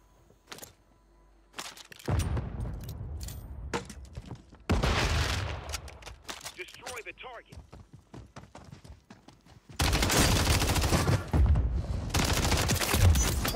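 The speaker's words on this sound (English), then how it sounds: "I got sniped from the tower." Sniper fire from a tower in a battle royale shooter: scattered sharp cracks and bursts of gunfire, some distant and some loud, separated by quieter stretches with game noise and clattering footsteps.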